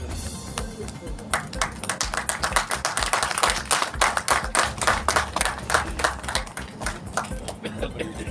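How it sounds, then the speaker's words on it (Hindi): Steady rhythmic hand-clapping from an audience at an award ceremony honouring journalists on Narad Jayanti, dense and continuous for the whole stretch with an announcer's voice running underneath. "जोरदार तालियां श्री आशीष जी के लिए"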